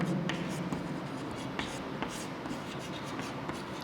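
Chalk or marker scratching across a classroom board during a Class 7 maths lesson, a steady run of short scraping strokes, close and continuous, with faint background room noise and no talk over it.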